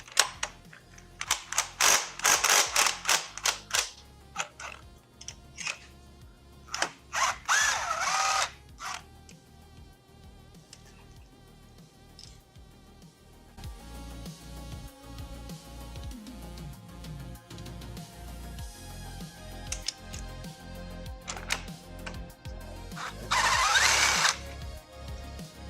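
Power tool loosening head studs on a Nissan RB20 engine during a teardown, with repeated ratcheting and whirring bursts of mechanical clatter, close and fairly loud, separated by short pauses.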